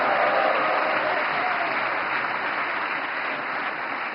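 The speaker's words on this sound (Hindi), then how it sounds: "नवकार मंत्र के लिए जितनी ताली बजी, उससे ज्यादा जीतों के लिए बज रही है" Audience clapping at a World Navkar Day event, a loud, even wash of applause from a large crowd that holds steady throughout with no voices on top.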